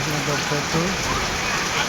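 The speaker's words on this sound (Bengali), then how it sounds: "আমি আজকে আপনাদেরকে একটি বৃষ্টির দিন দেখাবো যে কীভাবে বৃষ্টি হয়" Steady rain falls on a village day, a dense broadband hiss close to the microphone throughout, with a voice speaking over it in short tonal phrases.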